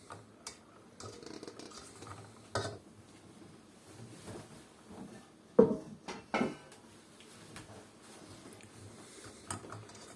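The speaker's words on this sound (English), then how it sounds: "I'll continue to stir." Pastry cream stirred in a pot on low heat: faint, intermittent scrapes and taps of a utensil against the pot, with a few sharper clinks.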